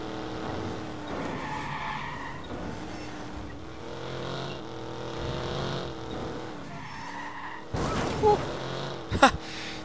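A car in the video game Watch Dogs skids with squealing tires, engine drone underneath, then sharp impact crunches of a crash near the end.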